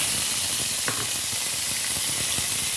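Green chili peppers sauté in a hot pan for stir-fried pork belly, giving a steady broadband sizzle and hiss throughout with a few faint clinks of utensils against the pan.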